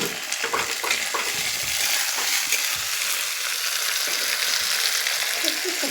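Tomatoes are stirred and fried in a hot pan of oil, giving a loud, continuous sizzle broken by scraping stirs throughout.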